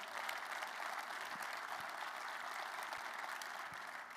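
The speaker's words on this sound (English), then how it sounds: "How about a round of applause for Colleen?" Applause from the audience at a Maryland men's basketball press conference for the interim athletic director, a steady wash of clapping that runs the whole time at a moderate distance, with no voices over it.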